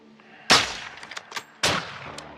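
Two loud gunshots in the video game Call of Duty MW2, each with a sharp crack and a ringing, echoing tail, roughly a second apart, with faint game ambience between and no talking.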